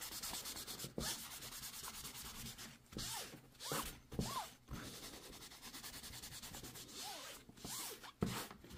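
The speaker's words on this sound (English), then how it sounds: "grab a dry paper towel and just rub on into it" Dry paper towel rubbing over painted, weathered model brick on a model building, a steady close scratchy rubbing with repeated strokes and brief louder swipes, no talking.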